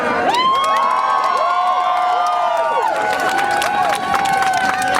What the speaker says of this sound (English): Please give a big hand, round of applause to Algier Hawkins